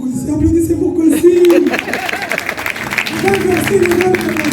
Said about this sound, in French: applaudissez pour Kossi.